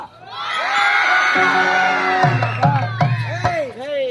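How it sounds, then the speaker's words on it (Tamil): An audience at a Tamil stage drama lets out a long, loud collective whoop and cheer, with individual shouts and yells rising and falling over a few seconds. "நல்லா சத்தம் போட்டு ஒரு ஓ போடுறா"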